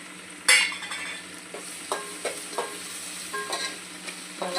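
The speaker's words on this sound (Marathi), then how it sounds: "आपल्याला 1 मिनिट असं व्यवस्थित थोडंसं परतवून घ्यायचं मसाल्याने" Home-made garam masala sizzles in hot oil while a spoon stirs and scrapes the pan, with soft frying hiss underneath and a series of clinking stirs close by.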